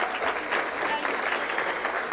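Sustained audience applause at a college athletics awards ceremony, dense and even clapping filling the hall from start to finish, with no voices over it.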